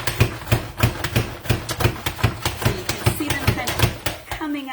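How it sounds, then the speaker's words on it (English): A knife chops carrots and other vegetables for steak chili on a cutting board, giving a fast, even run of sharp, close knocks at about three per second. "We're just chopping these down"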